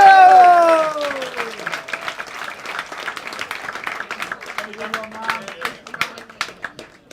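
A comedy club crowd claps to welcome a comedian to the stage, a smaller, uneven patter of individual hands with a few cheers, after a brief loud voice and tone at the start.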